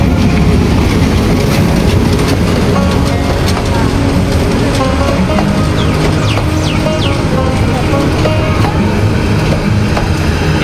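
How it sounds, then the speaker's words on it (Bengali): A Bangladesh Railway train pulls into Hemnagar railway station in Tangail: loud, continuous rumble and wheel clatter with high metallic squeals, near and filling the whole stretch. "চলে এলো হেমনগর রেল স্টেশনের ট্রেন, বাংলাদেশ রেলওয়ে।"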